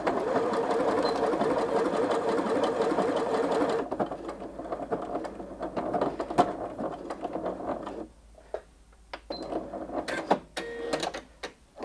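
Janome 5270QDC sewing machine running a decorative stitch, a loud steady mechanical hum for a few seconds that drops into quieter, uneven clicking and ticking as the pattern finishes and the stitches are secured.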